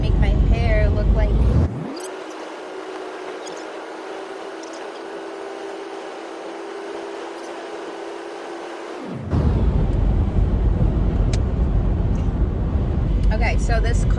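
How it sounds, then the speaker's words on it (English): A packed car on a road trip to Chicago rolls along with a steady, close engine and road drone filling the cabin, and the low rumble dips for several seconds in the middle. People talk throughout. "this car that we're driving"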